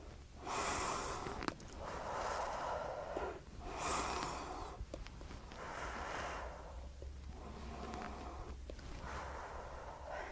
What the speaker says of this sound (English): you're going to take 3 more big deep breaths